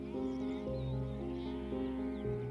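Sheep bleat in a stable, a few wavering calls overlapping in a continuous near stretch, set over a sustained musical background.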